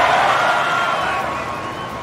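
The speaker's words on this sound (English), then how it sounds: "Oh wow, quite a big crowd." Crowd cheering in the Tropico 6 city-building game after the Presidente's speech, a dense, steady roar of many voices that fades slightly over two seconds.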